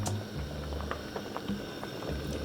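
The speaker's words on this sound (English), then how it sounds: "our salsa is at a rolling boil" Tomato salsa at a rolling boil in a pot, giving a steady low bubbling burble with scattered pops, close and moderately quiet throughout.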